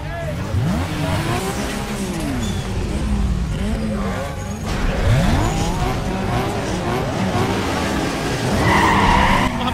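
A Nissan Skyline race car in Need for Speed Underground 2 skids through corners, its tires squealing in long sweeping bursts over a steady engine drone, close and continuous.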